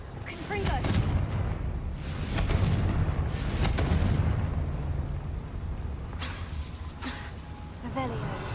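Repeated blast explosions from the Confringo spell in the video game Hogwarts Legacy, inside a small mine, come as a series of booming bursts with crackling debris over about eight seconds.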